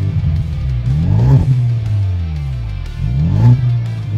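A 2023 Ford Maverick XFR's 2-liter EcoBoost engine revs through its exhaust, with two distinct rising and falling blips over a low idle, fairly subdued rather than throaty.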